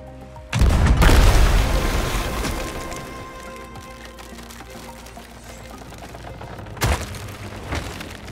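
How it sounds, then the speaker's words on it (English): A gunpowder barrel stored below deck beside a ship's hull in Sea of Thieves blows up, a loud booming blast with a cracking rumble that slowly fades, followed by a second smaller burst near the end. "Let's see if we can detonate it with a cannonball"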